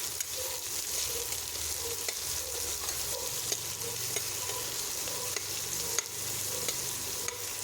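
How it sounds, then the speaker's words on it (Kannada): Finely chopped onion fries with cumin in a pan, making a steady sizzle and crackle throughout with occasional stirring scrapes and taps, moderately quiet and close, with no voices. "1 ಈರುಳ್ಳಿಯನ್ನು ಈ ರೀತಿ ಸಣ್ಣದಾಗಿ ಕಟ್ ಮಾಡಿಕೊಂಡು ಇದನ್ನು ಸಹ ಇಲ್ಲಿ ಫ್ರೈ ಮಾಡ್ತಾ"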